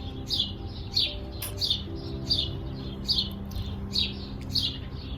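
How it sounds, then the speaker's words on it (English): A small bird chirps close by in quick repeated bursts, roughly seven calls spaced about a second apart, over a low steady indoor hum. "It's just this bird is really acting up."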